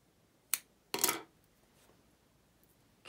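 Scissors snip crochet yarn in two quick, crisp metallic clicks close by, the second one a little longer, in an otherwise quiet room.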